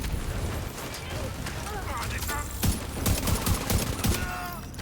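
Turret gunfire in The Division 2 video game crackles in dense, rapid bursts with sharp reports and explosive thumps, while a voice talks excitedly over the action.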